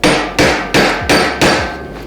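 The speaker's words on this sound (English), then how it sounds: "get this lined up and you can hammer it the rest of the way through" A hammer strikes a flex coupling to drive it into place, five evenly spaced, moderately loud, sharp metallic blows heard up close with no speech.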